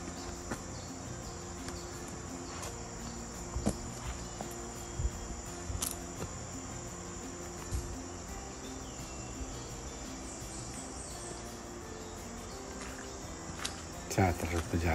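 Crickets chirp steadily among mangrove trees, a continuous high insect trill running throughout with faint bird calls and a few brief louder knocks nearby.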